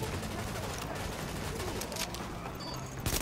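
Rapid LMG gunfire in the video game Tom Clancy's The Division, a dense crackling burst of shots running throughout, fairly quiet in the mix.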